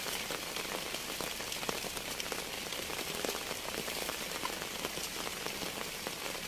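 Heavy rainy-season rain pours steadily, a dense, close patter on surfaces that never pauses, with no voices.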